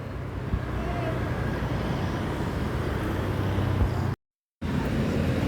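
An intercity bus passing on a Sumatra highway, heard as a loud, continuous roadway rumble of heavy engine and tire noise with a brief silent gap near the end.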